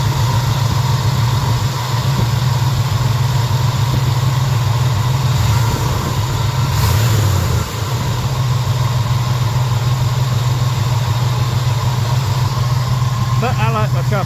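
A small car engine idles steadily and slightly choppily at close range after a Berryman B12 fuel treatment, a low constant rumble with a brief dip partway through and no voices.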